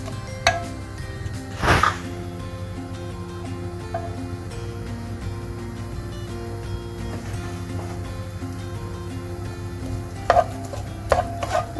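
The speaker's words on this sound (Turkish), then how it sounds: "Önce soğanımızı biraz kavuralım." A medium onion, finely chopped, sautés in about four tablespoons of olive oil in a pan: a low steady sizzle with occasional spatula scrapes and light clinks against the pan, close and moderately quiet.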